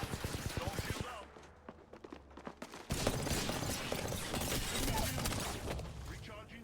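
Rapid bursts of gunfire in an Apex Legends match, dense volleys and single cracks stacked over game music and effects, loud and close throughout with a brief quieter gap before the shooting resumes.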